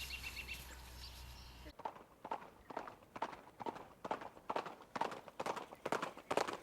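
Rhythmic hoofbeats of a horse trotting on soft ground, a steady clip-clop pattern after a brief stretch of background noise.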